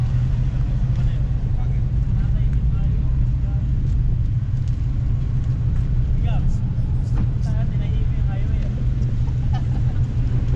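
Car engine idling with a deep, steady growl at an underground car meet, a constant low rumble close by with crowd chatter and voices talking over it.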